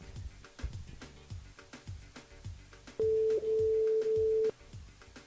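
A phone line ringing over a radio call-in broadcast, a steady electronic ring tone running about one and a half seconds in the second half, heard over rhythmic background music.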